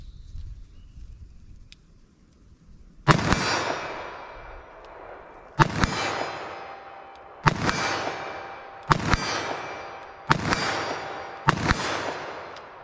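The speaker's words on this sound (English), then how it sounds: "357 Magnum. See if I can make any hits with this." A .357 Magnum fires six loud shots outdoors, spaced a couple of seconds apart, each a sharp crack followed by a long ringing echo, after a few quiet seconds.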